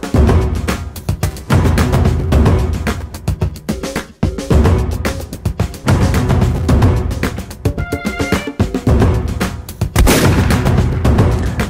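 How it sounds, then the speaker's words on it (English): Rapid strings of loud, sharp .357 Magnum gunshots from a Colt Python revolver fired on a shooting range, close and booming, with many cracking reports in quick succession throughout. "today we're going to be shooting another classic, the Colt Python"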